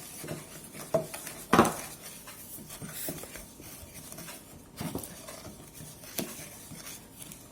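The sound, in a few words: mixing cornstarch and salt in a bowl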